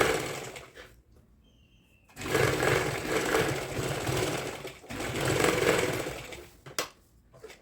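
A sewing machine stitches piping onto the edge of a kurti in two long steady whirring bursts, close and loud, separated by short pauses, with no talking.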